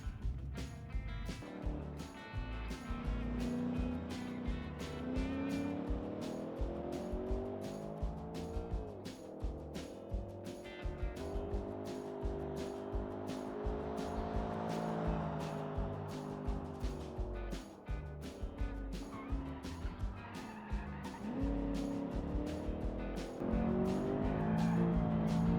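A car drives in the Automation video game, its engine droning steadily with pitch rising and falling through gear changes, continuous and fairly close for the whole stretch.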